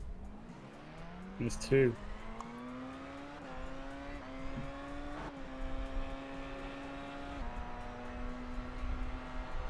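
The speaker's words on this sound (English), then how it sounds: "So watch, you got an LMP2 coming." An LMP2 prototype race car in a Le Mans sim racing game drones past with a steady engine tone that shifts pitch as it goes by, under brief talk and a short burst of voices.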